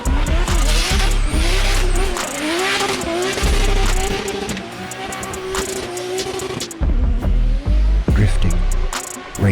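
Race car engines roar in a racing game commercial, with tires squealing through drifts. The engines rev and shift continuously, loud and dense throughout, with brief dips and surges.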